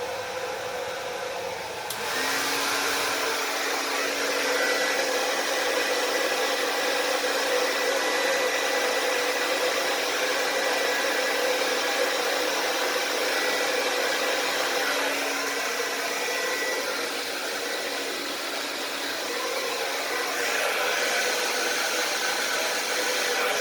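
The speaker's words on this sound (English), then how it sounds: "I'll use the blow dryer, but I'm gonna kind of just use like the angle of it and just kind of blow it that way a little bit," A handheld blow dryer runs for over twenty seconds over an acrylic Dutch pour painting, a loud, steady airy roar with a faint whine that starts abruptly and holds nearly constant, with no voices.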